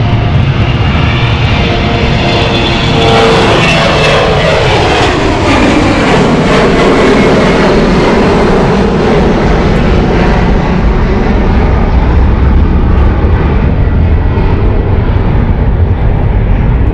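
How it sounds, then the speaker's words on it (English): Jet engines on an Embraer airliner at London City airport roar loudly and continuously, a deep broadband rumble that swells and holds close by, with no voices over it. "You've got to love the engines on the Embraer, they're so loud."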